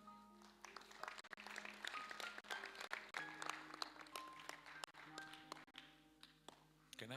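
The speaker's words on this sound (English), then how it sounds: "Clap hands for yourself." A church congregation claps hands during a live service, with faint scattered claps and taps over sustained music tones and some talk, all quiet and somewhat distant.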